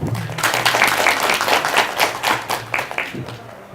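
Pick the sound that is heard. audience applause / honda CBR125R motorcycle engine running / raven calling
audience applause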